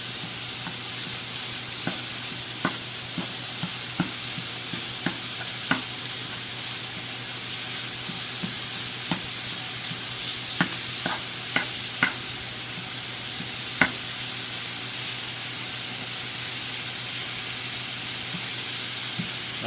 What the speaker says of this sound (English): You hear the sizzle? She's hot and cooking.